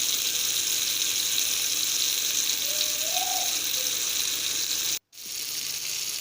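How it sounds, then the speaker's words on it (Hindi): Mutton seekh kebabs fry in hot oil on a griddle, giving a steady, even sizzle across the whole stretch, broken by one short gap near the end before the crackle resumes. "तवे पे ऑयल को गर्म करके कबाब अपने फ्राई कर लेंगे बारी बारी से।"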